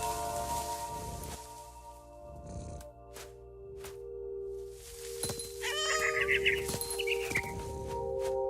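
A cat meows in the video game What Remains of Edith Finch, with a few short vocal calls and thumps alongside brief bird chirps over a low ambient hum.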